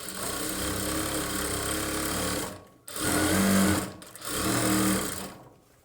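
Sewing machine running stitches along the lining of a boat neck blouse, three quick motor bursts of rapid clattering separated by brief stops, close and alone.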